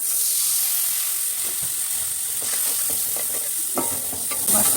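Turmeric and chili powder frying with onions in a pan for a catla fish curry, a continuous loud hissing sizzle with soft scraping stirs throughout, no talk.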